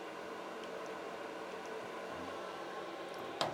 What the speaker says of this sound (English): that is the sound of the fan running right now